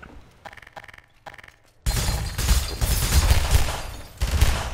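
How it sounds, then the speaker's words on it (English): Gunboat gunfire in the Half-Life 2 video game: a quieter stretch of scattered shots gives way to a sustained, loud, dense volley of rapid automatic fire that rumbles on with bursts swelling and fading. "Fine, shoot me through the indestructible window, see if I care."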